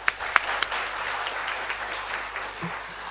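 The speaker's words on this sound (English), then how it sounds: "let's give them a big clap for this thing." Audience applause following a mention of a pricing certification at a professional management accountants' gathering, a fairly faint, steady wash of clapping with a few sharper claps near the start, heard alone.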